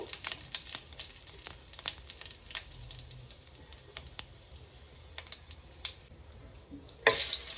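Whole spices, bay leaf, dried red chilli and cracked cardamom, tempering in hot oil for a fish-head muri ghonto, with a steady sizzle under repeated sharp clicks and taps of stirring, closing with a louder burst of frying.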